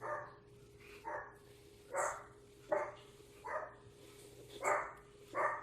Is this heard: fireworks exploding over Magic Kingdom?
no